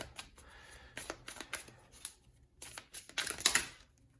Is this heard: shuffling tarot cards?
yes